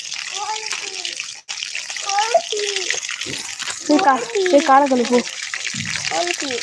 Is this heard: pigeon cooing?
no